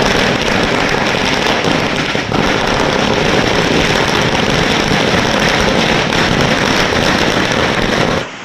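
Firecrackers burst nonstop at a political party celebration in Periyakulam, Theni district, as a loud, dense crackling barrage that never pauses.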